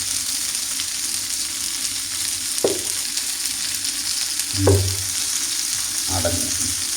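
Sardines (mathi) fry in a pan Kerala style, giving a steady hiss and crackle of hot oil, broken by a few louder spits and stirring knocks.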